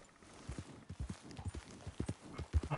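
Horse hooves clip-clop in Red Dead Redemption 2 with a steady, rhythmic walking or trotting gait, close and fairly loud, with sharp thuds repeating evenly across the stretch and no talk over them.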